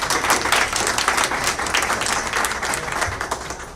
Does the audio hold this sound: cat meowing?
no